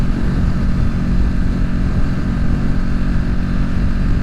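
A Ducati Streetfighter motorcycle rides along at steady speed with a light, held throttle during a quick lane change, its engine drone mixing with heavy wind rush, loud and continuous with no talk.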